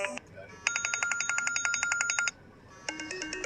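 A phone alarm tone that mimics a ringing telephone: a bright electronic warble pulsing in rapid repeated bursts for about two seconds, a short gap, then ringing resumes, fairly close and clear over faint background.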